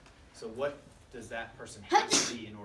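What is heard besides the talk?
sneeze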